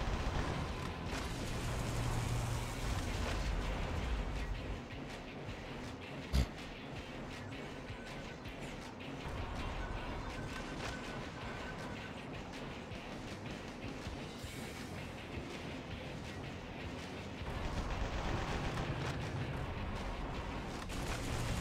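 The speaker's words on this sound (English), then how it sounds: "I always use a good old-fashioned rocket launcher." Rocket launcher fire and explosions in the Metal Wolf Chaos XD video game on PC: a dense, continuous wash of booms and blasts at a steady loud level, with one sharp bang partway through and a slight swell near the end.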